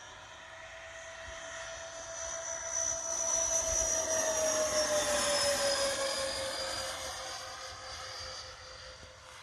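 A radio-controlled MiG-29 electric ducted-fan jet model streaks past at high speed. Its loud, steady turbine-like whine swells as it nears and fades away as it leaves, with the pitch sliding downward.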